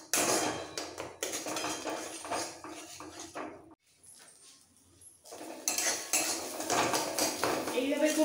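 Kharkol leaf paste is stirred and fried in a pan, with metallic scraping and clinking of a spoon against the pan in close bursts and a brief quieter pause in the middle.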